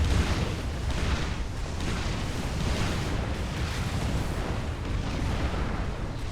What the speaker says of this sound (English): Finally using artillery on it.